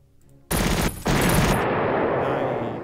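Gunfire from a unit attacking artillery in the wargame Panzer Corps Gold during a Sevastopol assault: a sudden loud burst of rapid shots with a short break, then a sustained roar that slowly fades.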